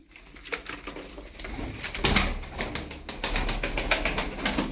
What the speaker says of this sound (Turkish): Kuşlar oyunludur.